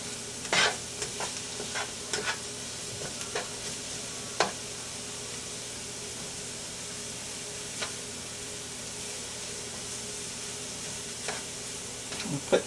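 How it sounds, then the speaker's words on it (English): Onions fry in a pan with a steady, low sizzle, broken by a few scattered scrapes and taps of a utensil against the pan, close by and with no talk. "Now I'm putting the onions over here, and I'm going to let them go for maybe about a minute"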